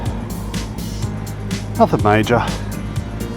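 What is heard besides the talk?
motorcycle engine idling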